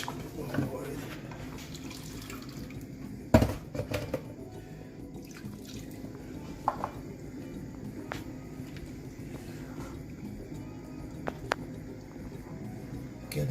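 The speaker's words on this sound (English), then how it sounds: "Let's chuck a bit more water in." Water is tipped into a pot of cornmeal porridge during a Caribbean breakfast, a running, splashing pour with a few sharp clinks, while someone talks over it.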